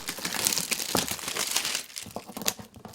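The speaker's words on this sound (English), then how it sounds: "Crinkling on camera." Plastic packaging crinkles and crumples up close during an unboxing, in quick irregular rustling bursts with a few sharper crackles.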